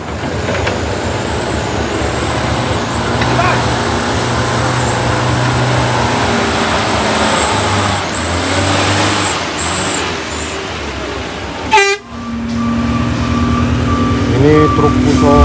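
An orange Fuso truck rumbles along a road under repair at Batu Jomba with steady engine noise, a high whine overhead, and a sharp hiss of air brakes near the end.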